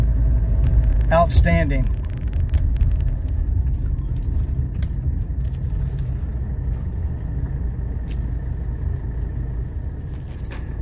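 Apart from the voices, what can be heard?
car driving on road after braking test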